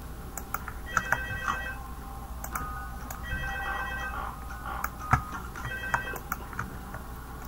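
A telephone rings in the horror video game Five Nights at Freddy's 2, three bursts of a trilling ring with gaps between them, heard over a faint hum and scattered clicks.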